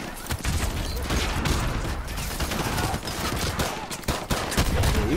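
Sustained automatic gunfire in Call of Duty Modern Warfare 2 Campaign Remastered, loud and dense, with continuous overlapping bursts and sharp individual cracks throughout.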